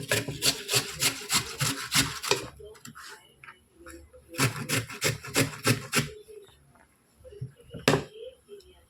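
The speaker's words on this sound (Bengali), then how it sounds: "একটু আলু ঘষে নিলাম বন্ধুরা" A raw potato rubs back and forth across a hand grater in quick rasping bursts, two long runs of rhythmic strokes separated by a pause, with a lone stroke near the end.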